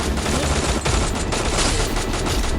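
Dense, continuous gunfire from a Free Fire battle royale match, with overlapping bursts and rapid automatic fire sustained loudly across the whole stretch and no speech.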